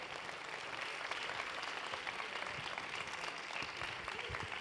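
Audience at the International Gastromasa gastronomy conference applauding to welcome Chef Virgilio Martinez, a steady, moderately distant wash of clapping from a large hall, continuous and without talk.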